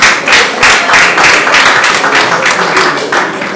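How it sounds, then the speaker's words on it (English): Enthusiastic clapping from a comedy show audience, loud and continuous, with bursts of rapid hand claps close by. "clap for them."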